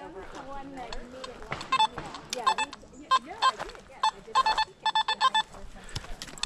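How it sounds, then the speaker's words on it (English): A metal detector sounds a string of short electronic beeps in an outdoor park while a person talks to a dog over it. "Yeah, the dogs like the beeping."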